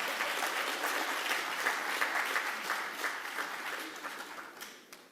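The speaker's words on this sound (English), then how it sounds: "And you may clap, it's an important issue." An audience claps at a talk on young people developing old people's diseases, a soft, fairly distant patter of applause that thins and fades toward the end.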